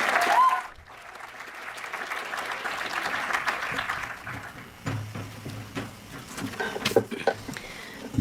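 An audience at a Georgetown University evening debate breaks into sustained applause as the moderators are welcomed, dense clapping that swells, then thins and tapers into scattered claps.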